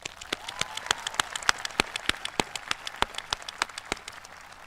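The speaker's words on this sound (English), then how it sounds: "let's get a round of applause for that" Sparse, distinct claps ring out at a high school graduation ceremony, a thin, irregular patter of individual hands over quiet room tone, as if only part of the audience is applauding.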